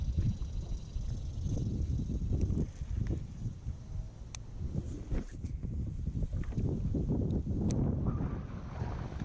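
Wind blowing over a bass-fishing pond from a small boat, a steady low rushing roar buffeting the microphone throughout, close and continuous, with faint thin rattles now and then.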